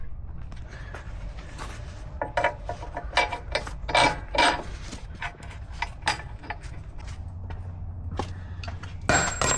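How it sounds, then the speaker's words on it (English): Metal sockets dropping and clattering while a BDS 3-inch lift and leveling kit goes onto a 2024 Ford F250/F350, a scattered run of sharp close knocks and rattles against a low hum, with a brief louder clank at the end. "Oh, just dropping sockets everywhere."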